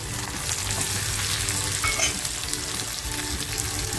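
Onion, green chillies and tomato fry in a pan with a steady, bright sizzle, close by, while a spoon stirs through them with soft scraping touches.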